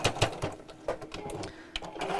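Short bursts of a sewing machine stitching a chair cushion, fairly quiet, with some faint voice and handling noise around it.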